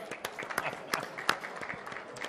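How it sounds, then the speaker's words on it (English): Scattered audience applause greeting Vernon Davis at an event, uneven claps with a few sharper peaks, fairly faint and thin throughout. "nice round of applause for Vernon Davis"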